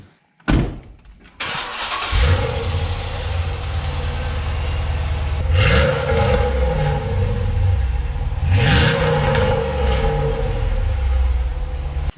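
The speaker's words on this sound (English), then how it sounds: "she sounds pretty good even though she's beat." Worn 2007 Chrysler 300 SRT8 V8 idling after a rough start, a deep steady rumble with two brief revs that swell and settle back, heard close with no talk.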